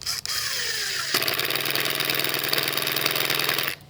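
An impact driver in impact mode on its lowest setting whirs briefly, then buzzes with a rapid, steady hammering rattle for a few seconds before stopping abruptly, close and loud.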